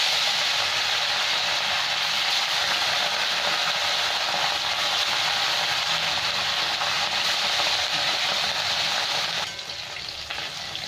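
Rohu fish pieces rubbed with salt and turmeric fry in hot oil, giving a loud, steady, dense sizzle that thins slightly near the end, with no voices.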